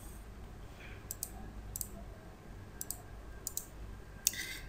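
Several sharp, quiet computer mouse clicks, some in quick pairs, spaced irregularly over a faint background hiss while working in SQL Server.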